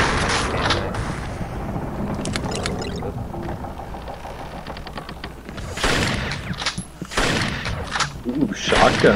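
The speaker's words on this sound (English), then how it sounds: "Ooh, shotgun!" Shotgun fire in the video game Splinter Cell Chaos Theory, Spies vs. Mercs mode, with loud overlapping blasts and mechanical clatter, heaviest toward the end, mixed with voices talking.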